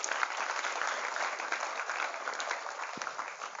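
An audience at a circumcision thanksgiving gathering claps in a dense, continuous burst of applause, fairly loud and steady for the whole stretch.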